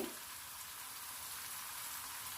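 Chicken pieces with salt fry over garlic and ginger in a pan for a cauliflower chicken curry, giving a continuous close, bright sizzle that stays steady and faint in level, with no voices.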